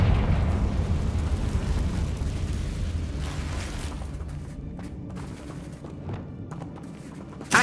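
A Confringo spell blast in the Hogwarts Legacy game, a deep rumbling explosion that rolls on and slowly fades under lingering crackles and debris, ending with a sharp thump.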